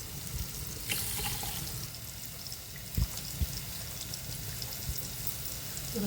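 Water poured from a tap or jug into a pot of dal being cooked for a Tamil vegetarian rice and curry meal, a steady close splashing stream with a few clunks, no talk.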